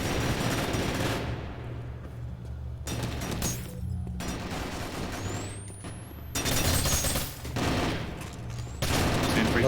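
An exchange of gunfire in a Warzone match: long, loud bursts of sustained automatic fire that break off, return and overlap, with short gaps and a few whizzing streaks. No voices are heard.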